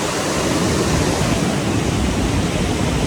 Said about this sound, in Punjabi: ਪਾਣੀ ਦਾ ਫਲੋ ਦੇਖੋ ਕਿੰਨੀ ਤੇਜ਼ ਹੈ